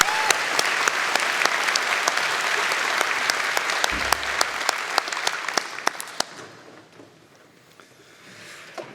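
An audience at a spring university convocation applauds a band, dense clapping that carries for about six seconds before thinning out and fading to scattered claps.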